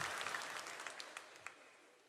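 Applause from a church congregation fades away over two seconds, with a few scattered final claps standing out as the crowd settles.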